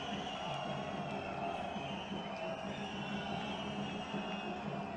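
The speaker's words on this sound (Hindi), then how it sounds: "आइए हृदय तल से तालियों के साथ आभार करें।" A large audience applauding India's Prime Minister at the inauguration of AIIMS Bilaspur in Himachal Pradesh: steady, faint and distant crowd clapping with a busy texture, holding level throughout.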